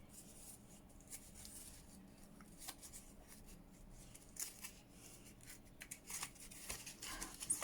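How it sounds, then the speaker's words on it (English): Scissors snip through ephemera paper in a string of soft, quiet cuts with faint paper rustling between them, close by and alone. "So I'm going to cut these off."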